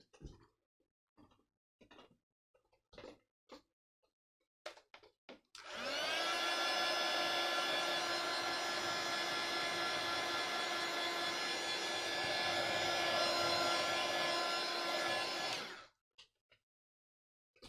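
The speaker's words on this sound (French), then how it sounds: "Donc là, je vais sécher." A heat tool drying paint on an art journal page blows a loud, steady whooshing whine for about ten seconds, preceded and followed by soft taps and handling noises nearby.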